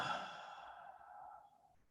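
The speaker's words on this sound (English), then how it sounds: "Let's all take a breath together, if you're willing." A group exhales slowly together during a workshop breathing exercise, one long soft sigh that tapers gradually into silence, close and quiet.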